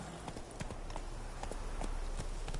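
Roach the horse trotting in the video game Witcher 3, a quick, even clip-clop of hooves over a dense, steady background ambience, moderately close, with no talking.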